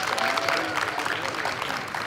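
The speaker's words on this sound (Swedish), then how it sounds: "Stora applåder till grabbarna!" Warm applause from a crowd at a wushu championship competition, steady clapping for the whole stretch, with a few voices mixed in.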